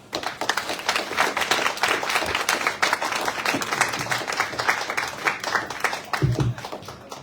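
An audience claps steadily in a hall at a socialist society evening talk, a dense sustained patter of many hands that carries on throughout at moderate loudness, then tapers near the end.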